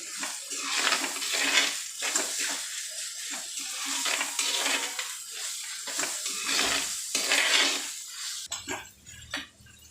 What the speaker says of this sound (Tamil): தக்காளி பாருங்கள் நல்லா வதங்கி வருது